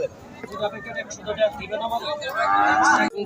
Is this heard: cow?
yes